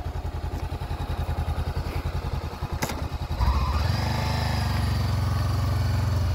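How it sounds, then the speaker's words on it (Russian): A Honda CB400X motorcycle engine putters unevenly at first, then settles into a steady, louder idle after a short revving burst, close by. "мотоцикл на ходу"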